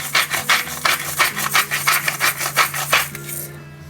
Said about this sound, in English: My trusty grinder.